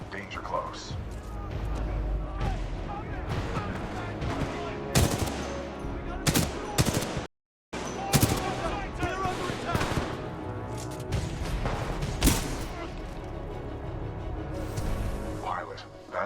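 Sustained supporting gunfire in the video game Titanfall 2, loud continuous bursts of automatic fire and impacts over about sixteen seconds, broken by one brief silent gap, with speech mixed in.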